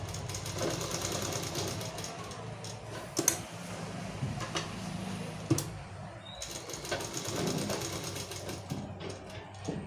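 A sewing machine stitching cloth in a beginner tailoring lesson, running in close, rapid, steady bursts with two short pauses between runs, its mechanical chatter continuous and moderately loud.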